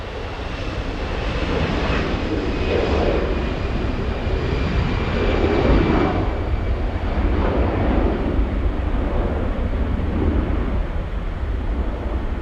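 A large jet airliner arriving at LAX on a long flight from London Heathrow, its engine roar a steady broad rumble that swells gently in the middle, heard from outdoors with some wind buffeting.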